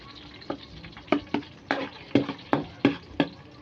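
Garlic sizzles in a hot pan for fried rice as a spatula stirs it, producing repeated sharp scraping and sizzling bursts in an uneven rhythm over a soft frying hiss.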